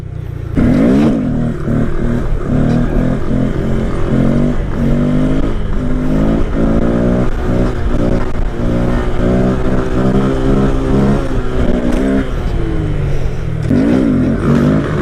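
A motorcycle engine revs hard and shifts up through first and second gear while riding a wheelie, its loud, close tone climbing in stepped sweeps and dropping at each gear change for the whole stretch.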